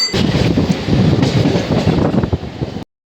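A passenger train rolls along at speed, heard from inside as a loud steady rumble with rhythmic clickety-clack from the wheels, cutting off abruptly at the end.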